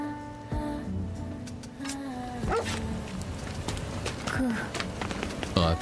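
Whimpers and short yips from a dog in the action game Beast of Reincarnation, rising over a game soundtrack with sound effects, fairly close and moderately loud.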